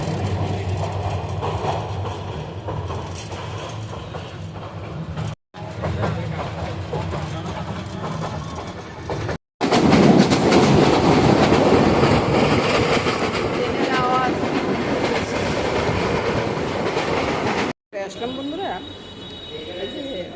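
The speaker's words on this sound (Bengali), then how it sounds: "ট্রেন চলতেছে বন্ধুরা" A train rumbles steadily along the tracks with a continuous clattering roar, loud and close, broken by a few brief cuts, with voices faintly underneath.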